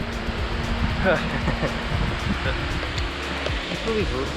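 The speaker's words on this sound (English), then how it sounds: "Waterfall number 2" Steady rushing water from a waterfall fills the background, with a few distant voices and bird-like chirps over the roar.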